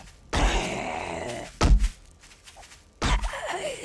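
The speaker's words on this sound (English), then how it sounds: "I can still hear more zombies." Zombie in the video game 7 Days to Die, heard as three low guttural groans and grunts with thuds in between, fairly close, with no speech.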